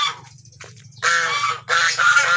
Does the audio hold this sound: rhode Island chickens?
yes